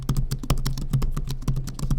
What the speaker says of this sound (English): So this is a modular little keyboard that comes with the laptop.